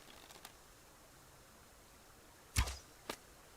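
Arrow shot in the survival video game Subsistence: a quiet stretch with a couple of faint ticks, then a sharp, close release snap and a second shorter thud just after, alone without speech.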